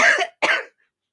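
Two sharp, close coughs come in quick succession, a harsh hack followed by a brief pause and a second cough, then silence.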